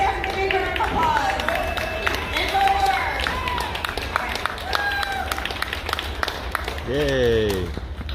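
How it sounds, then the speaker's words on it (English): Big round of applause and cheering from a festival crowd, dense continuous clapping with shouts and whistles throughout, voices calling out over it. "Yeah, that's definitely a big round of applause"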